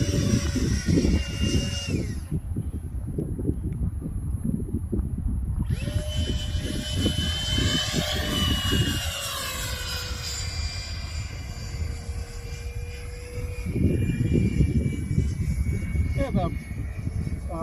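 Loud, steady whine of a small electric ducted fan motor on a model D.H. Vampire jet buzzing past close by in flight, rising and falling in pitch, with people talking over it.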